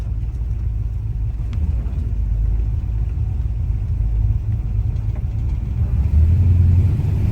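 A 1966 Chevy Caprice classic car cruising, its steady low engine rumble and road drone filling the cabin, constant and close, swelling slightly louder near the end.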